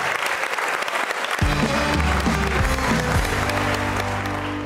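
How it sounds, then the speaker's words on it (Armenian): Audience applause at a comedy show: sustained loud clapping throughout, joined partway by music. "Եկեք ծափարենք"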